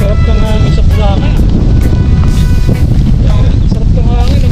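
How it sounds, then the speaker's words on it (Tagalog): Strong wind blowing at a megadike, a loud constant rumble buffeting the microphone while people talk over it. "Sarap ng hangin."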